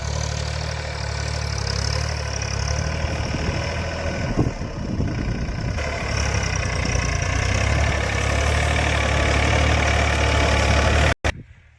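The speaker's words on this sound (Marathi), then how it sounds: "आंतरमशागत चालू आहे ट्रॅक्टरच्या साहाय्याने" Tractor carrying out intercultivation between rows in a papaya field, a steady close diesel engine drone running throughout with a brief knock midway, cutting off abruptly near the end, with no talking.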